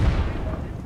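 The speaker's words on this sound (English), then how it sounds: "That's a lot of explosions." Explosions in The Culling video game: a dense, loud, low rumbling boom packed into a brief moment, with no pause between blasts.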